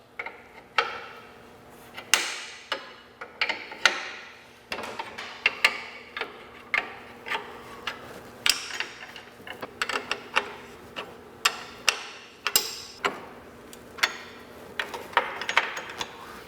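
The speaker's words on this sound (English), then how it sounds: "we're going to loosen these carriage bolts here on both head assemblies" Carriage bolts on the head assemblies of an electric through-frame RV slide-out are loosened with a tool, giving a quiet, irregular run of sharp ratcheting clicks and ticks.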